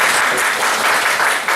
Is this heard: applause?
yes